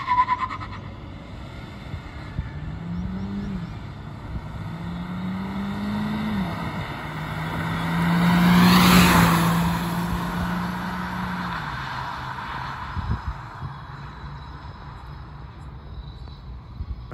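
A Volkswagen Virtus GT and a Maruti Suzuki Ciaz diesel in a drag race roar past outdoors, engine notes climbing through gear changes and peaking loudly as they pass close by around the middle, then fading away.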